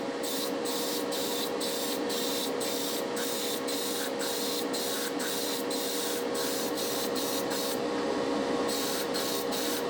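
Spray paint in Creepy Crawler's Orange hisses from a can onto a scale garage model, a steady close spray broken by a rapid series of short, regular bursts and pauses.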